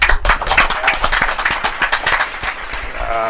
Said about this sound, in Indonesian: Tepuk tangan untuk Anindo dulu.